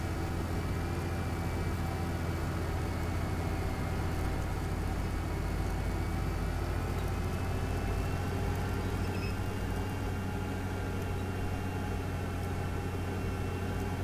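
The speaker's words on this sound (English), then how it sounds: "I like the note of them. Straight 6 engine." A straight-six tractor engine idles steadily in a farming simulation game, a constant low rumbling drone with a faint rising whine that holds at an even level throughout, with no voices.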